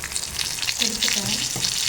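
Fish, nearly cooked through, fry in a pan with a steady near sizzle and light crackle, while a voice briefly murmurs partway through.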